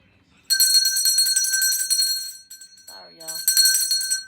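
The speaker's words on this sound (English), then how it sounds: "If I ring this bell again" A bell rung indoors gives a bright, sustained metallic ring that lasts several seconds, breaks briefly, then rings again while a person speaks over it.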